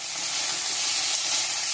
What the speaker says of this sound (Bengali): এখন আমি ভাজাটা বসাই দিব।